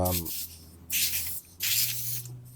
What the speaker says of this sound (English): give it a few blasts from the aerosol can